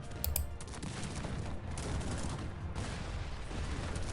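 Musket volleys crackle from a Cossacks 3 battle, a dense continuous barrage of overlapping gunfire with a sharper burst near the start, loud and steady throughout with no talk.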